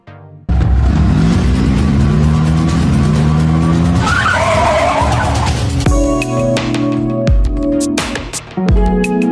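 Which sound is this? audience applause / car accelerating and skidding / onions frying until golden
car accelerating and skidding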